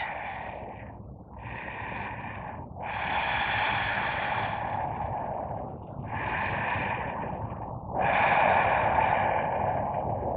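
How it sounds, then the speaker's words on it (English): Slow, deep breaths drawn in and pushed out through the nose during a power yoga flow, each inhale and exhale a soft airy rush, close and alone, in a steady rhythm of about five long breaths. "Breathe in through the nose. Breathe out through the"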